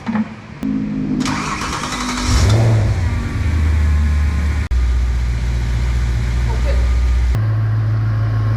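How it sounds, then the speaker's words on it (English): Audi RS4 engine starting for the first time after repairs: a cranking whir, then the engine catches with a rev and settles into a steady, loud idle close by, with a voice over it. "then we can fire it up. Here we go, first start."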